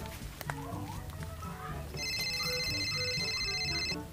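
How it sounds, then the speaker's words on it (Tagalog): A cellphone rings inside a bag, a bright repeating electronic ringtone that starts midway and continues steadily, following a stretch of background household sounds and clatter. "ba't nakiriring yung bag niyo?"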